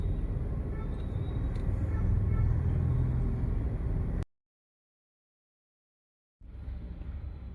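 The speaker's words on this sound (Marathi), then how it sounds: "लय ट्रॅफिक आहे पुण्यामध्ये" Heavy road traffic in rainy Pune: a dense, steady rumble of engines and wet road noise, cutting out abruptly for about two seconds before resuming.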